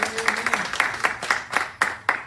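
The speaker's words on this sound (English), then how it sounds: "Come on, give them an applause." Audience applause in a church teaching session, a scattered burst of claps at moderate distance, uneven and fading over a couple of seconds.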